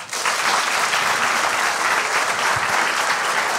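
Loud, dense applause from a studio audience greeting the culture minister on a talk show, steady and continuous throughout with no voices over it.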